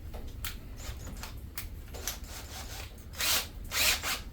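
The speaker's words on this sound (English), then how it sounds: "we're going to do a little drilling and create holes in the bottom of this thing" Bursts of a power drill whirring in short runs, drilling holes in the bottom of a worm farm container, growing louder toward the end, with brief pauses between each burst.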